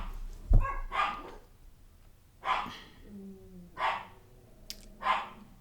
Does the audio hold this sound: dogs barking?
yes